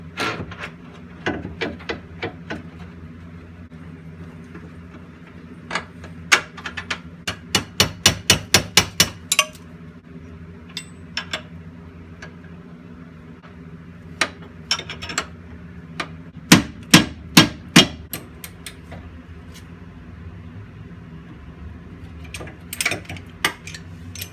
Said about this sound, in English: Then let's put the bolt for this one in.